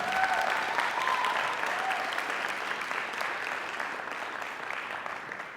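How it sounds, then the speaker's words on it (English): An audience at a women's chamber music symposium concert gives a sustained round of applause, dense and steady, tapering off slightly toward the end. "So if we could give everybody in the chat one more round of applause."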